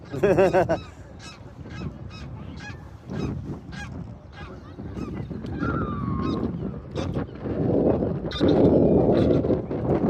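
Geese honking at a lake in Southport among ducks, swans and gulls, a series of repeated honks at varied distances over wind noise and a low outdoor rumble.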